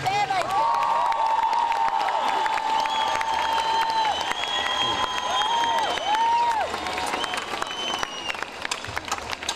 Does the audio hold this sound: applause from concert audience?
yes